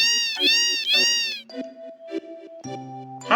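A cat meows repeatedly in the Final Fantasy VII game, three loud drawn-out cries in a row followed by softer, shorter meows mixed with game music tones.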